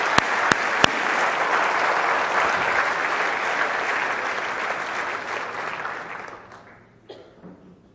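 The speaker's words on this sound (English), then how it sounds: "Round of applause for Chad." A live audience at a magic show applauds a volunteer, sustained dense clapping near and loud that thins and fades out toward the end.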